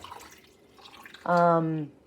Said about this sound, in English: I'm gonna put a little bit of water around it.